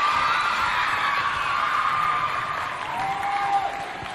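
Audience applauding the children's teams at a holiday event, a dense wash of clapping with a few whoops and cheers, steady and fairly loud for a few seconds.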